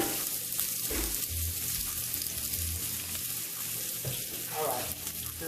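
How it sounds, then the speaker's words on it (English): Food sizzles steadily in a hot frying pan, a soft constant crackle with occasional stirring scrapes and low clunks, fairly quiet and close. "It's sizzle time."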